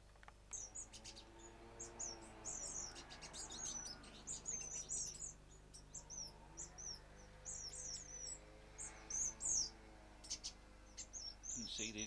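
Black-crowned waxbills in an aviary give frequent short, high chirps and thin tweets, scattered but almost continuous, soft and moderately close against a low steady hum.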